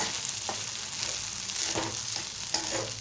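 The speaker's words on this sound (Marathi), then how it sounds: "आता आपण साबुदाण्याचं मिश्रण घालूया आणि परतून घेऊया" Sabudana khichdi mixture of soaked tapioca pearls with green chillies frying in a pan, a continuous sizzle broken by several scraping stirs of a spoon.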